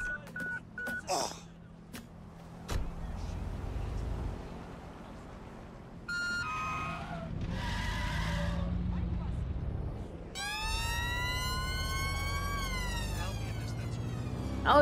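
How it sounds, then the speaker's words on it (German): Ambulance siren in the open-world game Watch Dogs: Legion, set in London, wailing loudly and rising and falling over several seconds after short electronic beeps, with low traffic rumble beneath it. "Oh, das ist der Krankenwagen."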